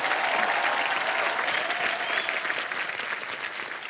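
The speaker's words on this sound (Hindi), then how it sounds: "तो जोरदार डबल तालियां" A studio audience on a television game show bursts into loud, continuous applause and cheering, a dense crowd roar holding steady throughout.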